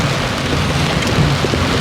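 Rain falls steadily in Mindoro as a dense, even hiss that fills the whole stretch at constant loudness, with no voices over it.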